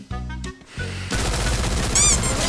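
Rapid MP40 submachine gun fire in a mobile shooter game, a continuous loud rattling burst following a few short tonal interface sounds and a brief pause, with a high whining effect near the end.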